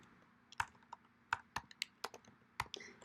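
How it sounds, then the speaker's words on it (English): Computer keyboard typing in short irregular bursts of crisp, close clicks and key taps, quiet between strokes, with no voice. "I'm going to press the Enter key, and I'm again going to type in General"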